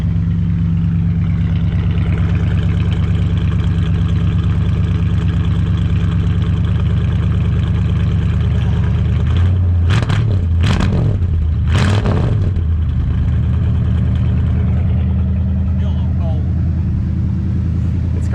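A 1971 Plymouth Sport Fury with a 360 V8 idles loudly with a deep, lumpy exhaust rumble, then is blipped through several sharp revs before settling back to idle; a voice is faintly heard.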